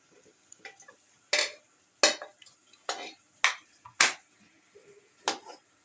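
Semolina halwa being served out into a dish, giving a series of sharp, close spoon-on-dish clinks and taps at irregular intervals against a quiet background.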